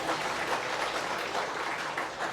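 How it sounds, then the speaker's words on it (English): Bray Emmets supporters clapping at a senior hurling county final against Carnew Emmets, a dense, steady wash of crowd applause sustained throughout at even loudness. "The Bray crowd show their appreciation down under us."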